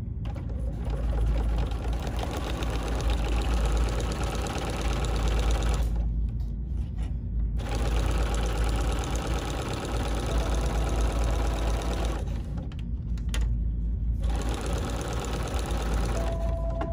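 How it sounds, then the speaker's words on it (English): A BERNINA sewing machine with a non-stick foot stitches a quarter-inch seam in vinyl, humming steadily up close and stopping briefly twice before running on. "And now I'm gonna sew, starting with my 1/4 inch."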